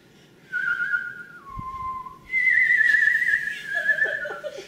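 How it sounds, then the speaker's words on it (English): A person whistles a short little tune alone, clear sustained notes stepping between pitches with brief gaps, close and fairly loud in a quiet room. "I wanted to just show you guys for 10 minutes how to whistle with a bravado"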